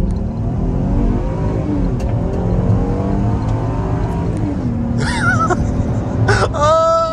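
An old police SUV accelerating hard from a standing start in an informal race, its engine rising in pitch through the gears with loud cabin road roar, joined near the end by quick squealing chirps.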